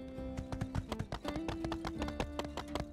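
Horse hooves clip-clop at a steady trotting rhythm in the video game My Time at Sandrock, with light game music and tones running underneath throughout.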